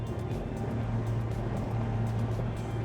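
An SPX RIB 24 motorboat cruises at 4,000 RPM and 30 knots, its engine a steady, loud low drone mixed with rushing wind and water noise throughout.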